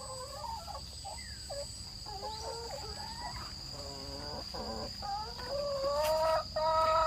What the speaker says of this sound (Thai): ทองคำต้องคอยดูแลไก่ให้แม่ด้วยนะ